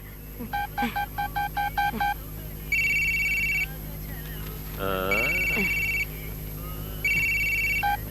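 A mobile phone is dialled and then rings in a Kannada comedy scene: a quick run of keypad beeps, then three evenly spaced ring tones with a brief warbling electronic sound between them, over a faint background hiss.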